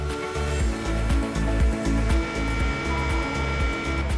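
A mobile power unit with its air compressor runs steadily after being switched on, a loud continuous mechanical drone with a regular pulsing throb, heard up close at an agricultural exhibition.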